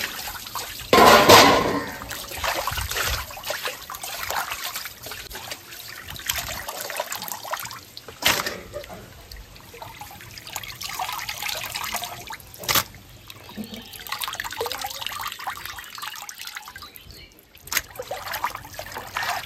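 Tap water running in a home kitchen while potatoes are rinsed for frying, a steady trickle and splash with occasional louder clatters and gushes, fairly close.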